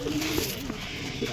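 Home pigeons let out in morning sun coo softly with a few rolling, throaty calls, close by and alone.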